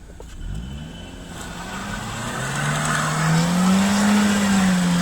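Car tyres spinning and sliding on a snow-covered road during a snowstorm in Srinagar, a rising whine of wheelspin building steadily over a low engine rumble, fairly close.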